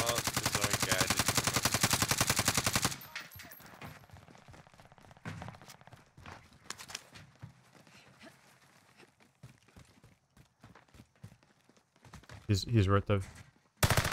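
Gunfire in the video game Call of Duty Warzone, Caldera map: a loud sustained automatic burst opens, then scattered single shots and distant pops follow, with a second heavy burst near the end and players talking over it.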